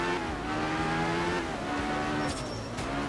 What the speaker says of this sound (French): Et ce sifflement et ce crapotement d'échappement, vraiment, vraiment très très plaisant.